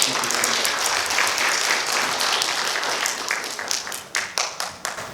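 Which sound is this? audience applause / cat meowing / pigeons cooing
audience applause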